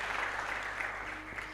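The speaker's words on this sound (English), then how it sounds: "So you can give them a round of applause" An awards-ceremony audience at a competition event gives a brief, steady patter of applause, fairly distant and soft, fading slightly toward the end.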